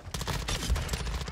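Rapid automatic fire from a BAS P gun in Call of Duty: Modern Warfare 2, a dense burst of close, loud shots in quick succession with a brief lead-in.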